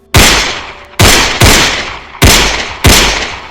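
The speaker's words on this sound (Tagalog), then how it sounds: "5 putok ng 38 ang umalingaw-ngaw sa gitna ng bukid." Five loud, sharp gunshots from a .38 revolver ring out across an open farm field, each a sudden blast followed by a decaying echo, spaced irregularly over a few seconds with no talking.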